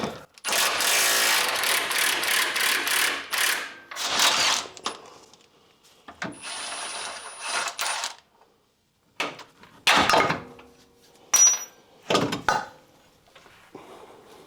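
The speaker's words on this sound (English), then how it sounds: "I'm going to undo the 3 bolts at the back." Ratchet clicking in rapid bursts while undoing the three rear bolts on a Honda Civic EK non-sway-bar lower control arm, loud and close, with pauses between runs and occasional metallic clunks of tools.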